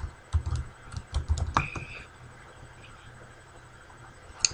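Fast typing on a computer keyboard as a search term goes into Google: a quick run of clicks for about two seconds, then near silence, and one last faint tap at the end.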